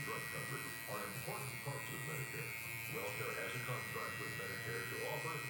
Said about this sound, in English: I'm gonna grab my number 2. I'm gonna do the same thing. However, I'm gonna start with my clipper all the way open first.